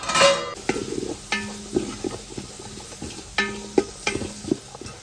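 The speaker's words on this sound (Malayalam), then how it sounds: "ചിക്കൻ നന്നായിട്ട് വറ്റി വരുന്നുണ്ട് കേട്ടോ" Chicken kadai sizzling and reducing in a pan as it is stirred, with repeated scraping strokes of a spoon against the pan over a steady close sizzle, no talk.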